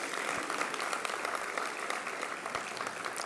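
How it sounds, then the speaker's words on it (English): Steady applause from an audience at a university research awards ceremony, even continuous clapping of moderate loudness with no talk over it. "I think that deserves some applause."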